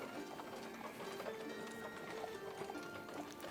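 Horses' hooves clip-clop steadily at a moderate distance, a continuous run of soft knocking beats under a faint background hum, with no voices.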